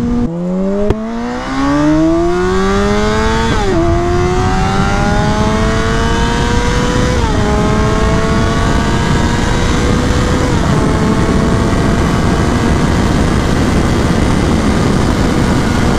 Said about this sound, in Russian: Он очень динамично набирает скорость, в отличие от моего мотоцикла